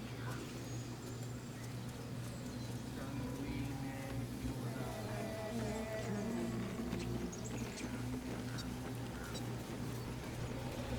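Honking goose-like bird calls in Baldur's Gate 3, several short honks scattered through a steady background hum of game ambience.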